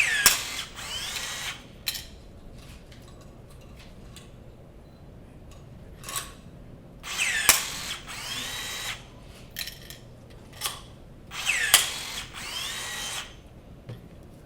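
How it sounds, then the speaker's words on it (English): A battery-powered rivet gun sets hemlock rivets of the kind used on Ford and Jaguar repairs, giving several short whirring bursts separated by quiet pauses, each ending in a sharp snap, close and fairly loud. "if you like the portability and having a battery-powered rivet gun"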